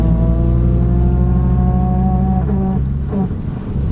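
A Nissan 180SX accelerates hard in third gear, its engine note rising steadily and loud from close by, then the revs drop as the throttle lifts near the end.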